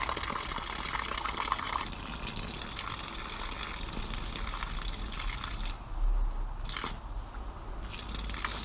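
A water pump with a 500-gallon-per-hour capacity runs steadily, giving a continuous broadband gushing, churning wash of water that holds at a constant level throughout, with a brief louder surge partway through.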